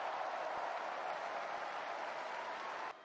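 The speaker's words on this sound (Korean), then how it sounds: "여러분 뜨거운 박수 보내주시기 바랍니다" A crowd applauds steadily, the clapping a dense, even roar that cuts off abruptly near the end.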